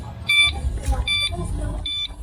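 A budget e-bike's turn signal beeps in three short, evenly spaced electronic bursts, close and moderately loud, with low rumble and faint background talk underneath.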